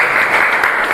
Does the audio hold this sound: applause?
yes